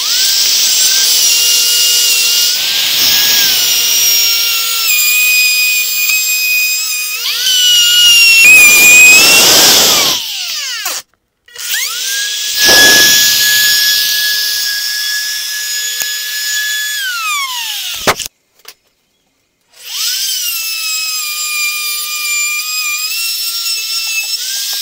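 A router held in a jig cuts 3/4 inch plywood with a loud, high-pitched whine, its pitch dipping under load during passes, with two short breaks where it stops and restarts, then winds down.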